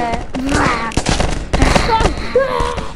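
Rapid bursts of gunfire from a game or animated scene, several loud cracks fired in quick succession, with chaotic sound effects and voices around them.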